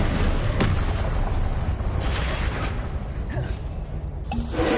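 Incendio fire spell cast over and over in the Hogwarts Legacy video game: steady, dense roaring fire and magic blasts with sharp bursts, continuous and loud throughout.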